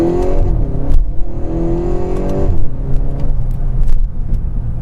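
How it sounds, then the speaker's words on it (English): A 2024 Volkswagen MK8 Golf GTI accelerates with its induction sound rising in pitch through gear changes, loud and close, with a steady road rumble underneath. "Really like that induction sound."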